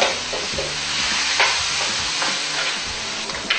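Adobong tuyo (dry adobo) is stirred in a hot pan, with a steady sizzle and hiss punctuated by occasional scraping strokes of the spoon, loud and close.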